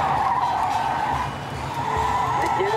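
A car skids past during a police chase, a sustained loud tire squeal with a rough engine roar beneath it, dipping briefly and then rising again as it goes by.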